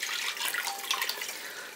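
Water splashes steadily into a cooking pot as it is added for paneer biryani, a brief, close, hissing pour that stays even and bright from start to finish.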